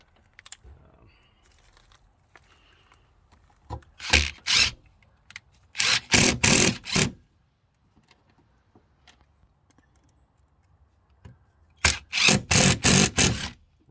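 A power drill bores holes for a camper jack bracket into a camper's rotten wall, sounding as three loud bursts: a short one, a longer whirring run of several pulses, then another sustained pulsing burst after a quiet pause.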